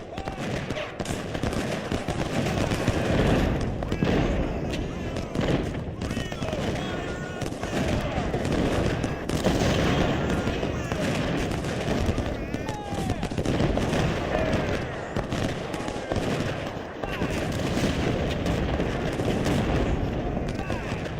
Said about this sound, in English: We've got massive artillery down here.